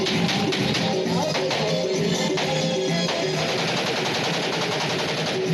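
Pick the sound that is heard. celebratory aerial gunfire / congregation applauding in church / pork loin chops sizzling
celebratory aerial gunfire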